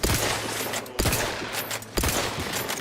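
Rifle shots ring out in The Outer Worlds 2, three sharp loud reports about one second apart, each trailing off into a hollow ringing tail.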